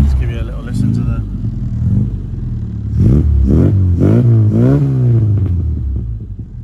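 A Mini with an upgraded 1275cc engine, started cold, idles and gets a few quick blips of the throttle, each rising and falling in pitch, while a voice is heard over it.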